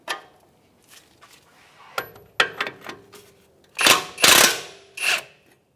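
A wrench or ratchet works loose the 24mm strut-to-knuckle bolts on an Acura MDX, giving sharp metallic clicks and clanks in irregular bursts, with louder clustered knocks near the end.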